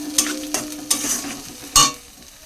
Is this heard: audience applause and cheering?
no